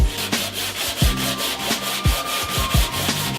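Body filler on a 1970 Firebird drift car is sanded by hand with steady, close, rhythmic back-and-forth rasping strokes, about three per second, with no voices.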